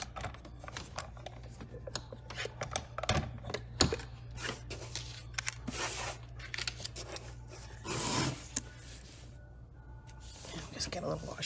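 Paper being cut with a metal stamp-set die while decorating a birdhouse, heard as scattered crisp clicks, rustles and short scraping bursts over a steady low hum, close and fairly faint.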